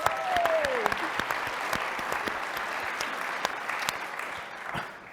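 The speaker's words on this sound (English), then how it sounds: "So round of applause for every single person in this room." An audience at a professional talks event claps in a sustained, dense round of applause that stays full for several seconds and then begins to taper off.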